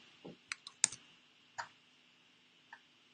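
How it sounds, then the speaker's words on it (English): A computer mouse clicks several times, including a quick double click, faint and close in a quiet room with no talking. "I can double click that line."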